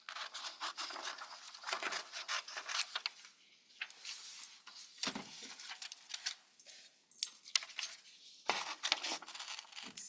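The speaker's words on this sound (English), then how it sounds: "I'm going to use scissors to cut it first." Scissors cut through printed paper in bursts of crisp snipping and rustling, close and fairly quiet, with short pauses between cuts.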